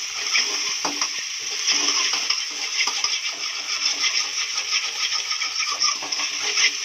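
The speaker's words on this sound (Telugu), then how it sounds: "ఎగ్గుని మంచిగా మిక్స్ చేయాలి ఫ్రై లాగా చేయాలి" Egg frying and being mixed in a pan for egg fried rice, a steady close sizzle with scraping and tapping of a spatula, continuous and fairly loud without talk.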